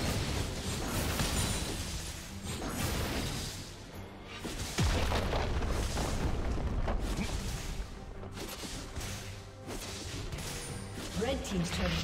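Turret exploding in League of Legends: a deep boom amid ongoing game combat noise of hits and effects, moderately loud, with voices in the mix.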